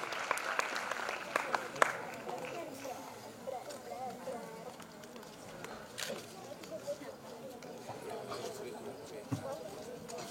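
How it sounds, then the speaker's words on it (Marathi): Audience clapping at a school award ceremony for teachers and students, a steady crowd applause with people talking over it throughout. "बाकीच्यांनी जोरदार टाळ्या वाजवलं तर फार शानदार आणि दिमागदार सोहळा दिसेल"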